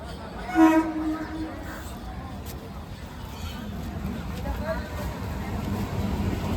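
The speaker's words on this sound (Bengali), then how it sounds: "ট্রেন দিয়ে দিয়েছে তারকেশ্বর শ্যাওড়াপুলি লোকাল এই ট্রেনে করে যাব" A Tarakeswar–Sheoraphuli local passenger train rumbles at a station in West Bengal, India, with a brief horn blast near the start, then a steady low rolling noise and faint voices.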